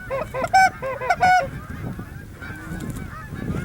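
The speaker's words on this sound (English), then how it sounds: "geese in your blind right now." Geese honking close by during a goose hunt in northwestern Pennsylvania, a quick burst of loud calls in the first second and a half, then fainter honks over rustling field noise.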